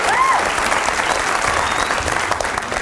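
Studio audience applause from a sketch comedy show, a steady, dense round of clapping that holds at an even level for the whole stretch with no talk over it.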